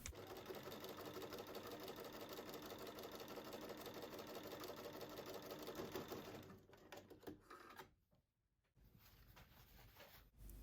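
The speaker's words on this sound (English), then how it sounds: "When I stitch that seam, I'm stitching so that I'm right on that 1/4 inch seam allowance" A domestic sewing machine runs steadily, stitching a quarter-inch seam on a scrap-fabric quilt block with a fast, even mechanical whir, then slows and stops with a few short bursts and a pause near the end.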